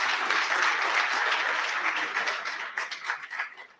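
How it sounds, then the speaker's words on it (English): An audience applauds a senior secondary school at a Gambian independence and nationhood event; the dense clapping gradually thins and fades, leaving a few scattered individual claps at the end. "a round of applause for Newsrat Senior Secondary School"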